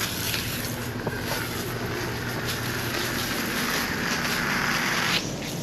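Water sprays steadily from a Pocket Hose Silver Bullet nozzle, a constant broadband hiss and rush that holds near and even for several seconds with no talking.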